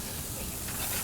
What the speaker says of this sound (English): So we've got these sauteing now